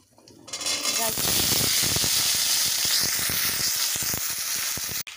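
Potato and carrot pieces hit hot oil in a pan of tempered spices, bursting into a loud, steady sizzle. Stirring adds scraping clatter throughout, close up, with no talking.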